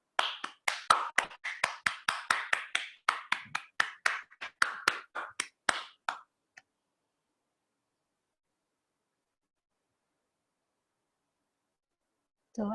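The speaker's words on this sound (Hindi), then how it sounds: "ऊर्जा के लिए हम जोरदार ताली बजाएंगे" Group of people clapping loudly after a meditation session, a rapid flurry of sharp claps for about six seconds that stops abruptly, followed by silence.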